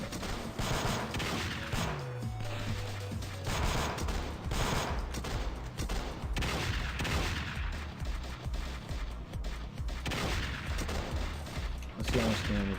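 Sustained gunfire and rapid magazine dumps from several shooters in a modded online shooter game, dense overlapping bursts and impacts continuing throughout at steady loudness, with a faint voice underneath.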